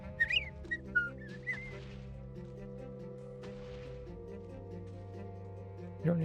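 A cartoonish whistled tune from a farming video game: a few short rising whistle notes near the start over steady background game music, then a brief whistle blip at the end.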